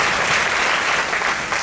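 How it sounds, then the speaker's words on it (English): An audience at a ceremony bursts into loud, dense applause, a continuous roar of clapping hands that holds steady throughout with no voices breaking through. "please join me to give him a round of applause for being a wonderful MC."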